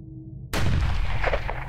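A single loud, sudden rifle shot fired while hunting whitetail deer on public land, a sharp blast after near silence that is followed by a short booming echo.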